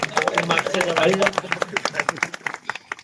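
A crowd of devotees claps together at a village gathering in Kavathe marking the end of a walking pilgrimage to Sai Baba, with dense, lively applause that thins into scattered claps, and voices murmur beneath it.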